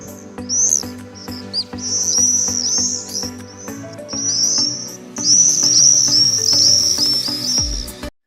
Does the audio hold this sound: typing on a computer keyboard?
no